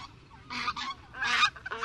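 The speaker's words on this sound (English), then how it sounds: "you'll find them in a field guide as the Greater White-fronted Goose" Greater White-fronted Geese give a series of loud, high, laughing honks, several quick yelping calls in bursts against a quiet background, close by with no talk.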